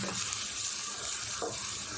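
Steady broadband sizzling of chopped onion sautéing in oil over a low flame, continuous and fairly soft, with no talking.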